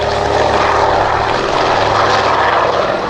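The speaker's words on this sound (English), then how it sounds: "Off the ground, and Andrew easing her into the air, ready for the display." A propeller-driven airplane, an aircraft first designed in 1935, takes off at an air show with a loud, steady, close engine roar and no speech over it.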